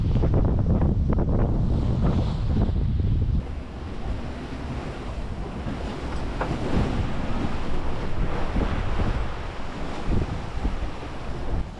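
Squall wind buffets a sailboat at sea on a Pacific Ocean crossing, a loud, continuous roar of gusts and wind noise on the microphone mixed with rushing, breaking waves against the hull, heaviest in the first few seconds then steady throughout.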